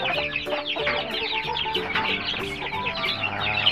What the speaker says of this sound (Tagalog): Meron akong leghorn, 3 leghorn.